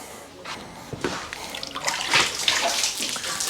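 Water splashes and runs steadily over the roof of a car being washed down before paintwork, a close, uneven spray with brief surges and drips.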